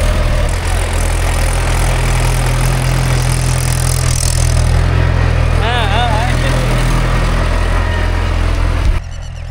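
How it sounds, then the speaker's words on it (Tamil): A tractor pulls a hook plough through a paddy field being prepared for samba rice, its engine a loud, constant low rumble close by, with people talking over it before it suddenly drops off. "வண்டி உழவு உழுதுகிட்டு இருக்கு."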